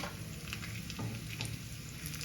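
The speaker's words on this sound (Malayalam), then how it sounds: "ഇനി അതിലേക്ക് ഒരു വറ്റൽമുളക് ഇട്ട് കൊടുക്കാം" Dried red chilli sizzles in hot oil for a mushroom curry, a steady close crackle and hiss with a few faint clinks, with no voices.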